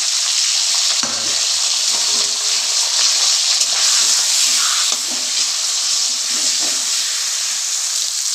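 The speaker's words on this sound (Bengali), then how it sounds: "মাছের মাথাগুলো তো ভালো করে ভেজে নিচ্ছি। আর দেখো কচুর শাকটা দিয়ে দিলাম।" Hilsa fish heads fry in hot oil with taro leaves, giving a loud, continuous sizzle and crackle that fills the whole stretch, with occasional faint stirring knocks underneath.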